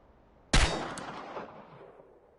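A single loud pistol shot at a shooting target in the game Chernobylite cracks sharply, then rings out in a reverberant tail lasting over a second.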